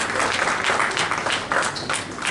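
A seated audience at an industry award ceremony for auto parts manufacturing bursts into brisk, full applause, many hands clapping together in a continuous wash without pause.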